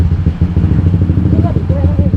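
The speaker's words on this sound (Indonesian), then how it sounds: "Setelan motornya aneh." A motorcycle engine with odd tuning runs near and loud in an uneven, lumpy idle with throbbing pulses, while voices talk over it.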